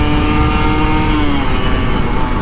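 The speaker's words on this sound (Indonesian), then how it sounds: "Dan gue mau ngegas dulu bro." An older Kawasaki Ninja RR 150 two-stroke motorcycle is ridden and revved hard on a morning commute, giving a loud, continuous engine drone with a pitch that holds and then shifts slightly.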